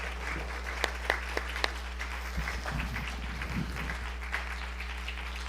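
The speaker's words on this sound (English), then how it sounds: "Let's give them one more round of applause." Applause from a church congregation at a Sunday service, a continuous patter of many hands with a few sharp louder claps standing out near the start and brief murmuring voices partway through.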